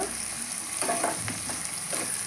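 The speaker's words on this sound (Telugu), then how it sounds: "కొద్దిగా ఆయిల్లో ఈ విధంగా ఫ్రై అయితే సరిపోతుంది" Onion pieces fry in a little oil with a close, even sizzle, broken by a few brief spatula scrapes and stirs, no voices present.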